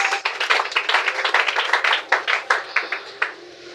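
Congregation in a church applauding, many hands clapping in a fairly rhythmic burst near and loud that thins out toward the end.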